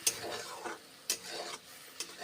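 Onion and garlic paste frying in a wok, with a soft hiss and three or four sharp scraping stirs at regular intervals.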